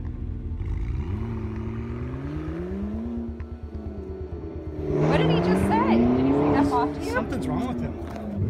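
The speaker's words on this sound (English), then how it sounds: "He then proceeded to drive recklessly in and around the school parking lot." A car driving recklessly around a school parking lot, engine revving and rising in pitch with tire squeal and a louder roaring surge midway, under a voice speaking.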